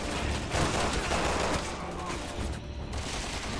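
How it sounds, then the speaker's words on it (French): Gunfire in Resident Evil 6 co-op campaign, a dense continuous barrage of rapid shots and automatic fire, loud and steady throughout with no pauses. "ça tire de partout"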